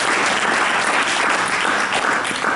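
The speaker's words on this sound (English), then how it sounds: "I think they deserve another round of applause." Audience applause at a film festival screening, a dense, loud, steady wash of clapping from a crowd filling the whole moment.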